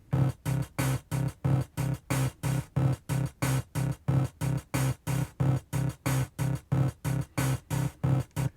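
Game Boy Advance chiptune drum pattern from a 16-step sequencer, steady, evenly spaced hits in a tight repeating groove, with a bright bleepy tone riding on each beat, no voices.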